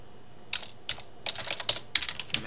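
Keys clack on a computer keyboard as a PowerShell command is typed, a close, crisp run of separate taps in an uneven rhythm, with no talk.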